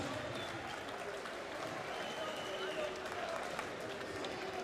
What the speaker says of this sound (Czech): Samozrejme, veľký potlesk aj Patrikovi Záderovi za tento obrovský